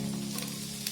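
Chopped onions dropped into hot oil already browning garlic and green chili, frying over a high flame for chilli manchurian: a steady, dense sizzle holding level throughout, close by, with a faint scrape or two of stirring.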